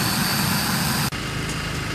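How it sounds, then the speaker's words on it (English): A jet engine roars nearby at a rally field, a loud, continuous broadband rush that briefly cuts out and then resumes slightly quieter, with no talk. "Yep, it's a jet engine"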